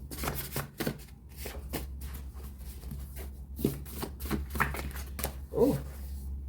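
Oracle cards are shuffled near and clearly in a series of separate crisp riffles and taps, spaced irregularly over a low steady hum, with no talking.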